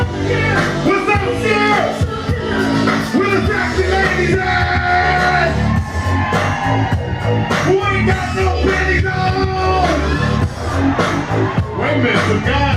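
A crowd of men yells and whoops at a live show in Detroit, loud and continuous for the whole stretch, blended with dense babble and shouted voices.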